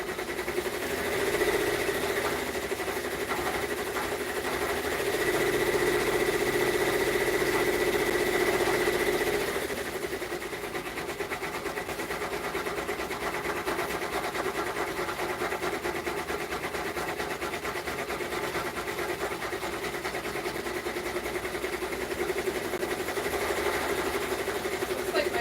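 An embroidery sewing machine runs steadily for the whole stretch, a dense mechanical whir with a constant pitch and a slight change in texture partway through, close and loud with no talking over it.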